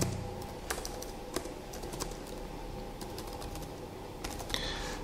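Close, steady typing on a computer keyboard, a quick run of light clicks with a few sharper key strikes, with no one talking.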